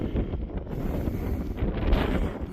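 Wind gusting across a mountain loop road at Steens Mountain, buffeting the microphone with low, uneven rumbling gusts that swell and ease over a couple of seconds.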